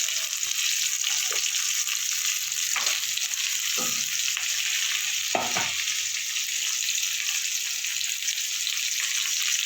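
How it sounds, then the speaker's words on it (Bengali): Long-cut potato strips fry in hot oil with a steady, bright sizzle that holds throughout, broken by a few soft knocks of stirring, heard close with no talking. "ওই তেলে দেবো আমি আলু, কেটে রাখা লম্বা লম্বা করে আলুগুলো একটু ভেজে নেব।"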